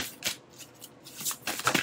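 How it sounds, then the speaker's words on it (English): A deck of Moonology tarot-style cards is shuffled by hand in several quick, crisp bursts of rustling and riffling, close and alone, with no talking. "Let me go ahead and shuffle the cards."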